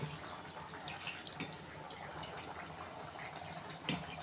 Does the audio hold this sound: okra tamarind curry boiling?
yes